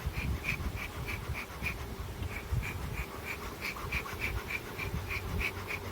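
Honey bees buzz around an open hive during an inspection, a faint, continuous hum with soft pulsing wingbeats and no talk.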